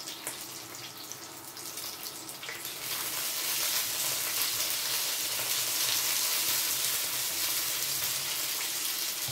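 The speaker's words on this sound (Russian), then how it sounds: "Перчики уже жарятся." Steady, loud sizzling of peppers frying in a pan, with a rising hiss after a few seconds and faint crackles throughout.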